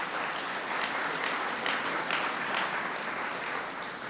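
Steady audience applause at the Thirty-Third Dr. Eric Williams Memorial Lecture, dense clapping held at an even level throughout without a break.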